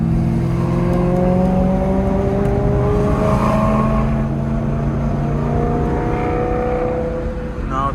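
A broken BMW M3's engine revs under acceleration as a loud, close droning tone that rises and wavers. The engine reportedly cuts out in repeated pulses and sounds strained and uneven.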